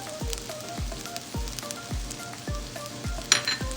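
Restaurant-style shrimp fried rice sizzling in a pan with garlic salt, a soft continuous crackle under evenly spaced low thumps of a spatula tossing the rice, close and steady, with one brighter clatter near the end.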